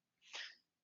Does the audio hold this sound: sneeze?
yes